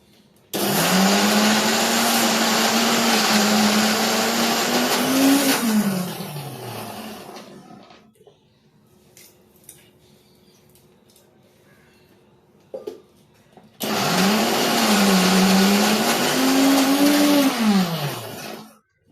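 An electric mixer grinder whirs at full power grinding green vada batter, with two loud, whining runs whose pitch wavers and winds down, separated by a quiet pause.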